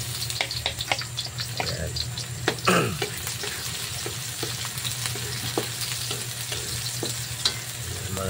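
Garlic sautéing in oil in a pan for chicken caldereta, heard as a steady crackling sizzle with a few louder spatters and stirring clatter, plus a brief spoken word from a nearby voice.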